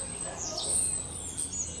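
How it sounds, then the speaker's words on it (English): Starlings roosting around a ruined abbey in Whitby, faint high chirps and whistles twittering in the background over a low ambient hiss. "they're all starlings."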